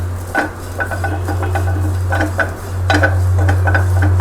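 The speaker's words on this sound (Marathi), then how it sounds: "खोबऱ्याला काही जास्त वेळ लागत नाही भाजायला, पटकन भाजतं." Dry coconut is roasted in a pan and stirred with a utensil, giving repeated scraping, clinking strokes over a steady low hum from the stove, close and fairly loud.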